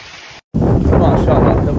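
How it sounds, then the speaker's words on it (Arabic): A waterfall at Al Ghat national park in Saudi Arabia roars as a steady, loud, broadband rush of falling water heard close by, briefly cut by a short dropout, with wind buffeting the microphone. "هذا اللي يقولك شلال. ها يمينك ويسارك شلال"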